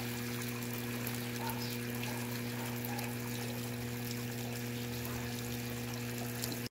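Tap water runs steadily into an Electrolux top-loading washing machine, likely an LPR13, LPR16 or LPR17, at weak pressure because the tap is shared. A low, continuous hiss with a steady hum plays at moderate level, with no talk.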